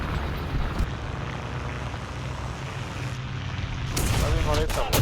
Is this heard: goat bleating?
no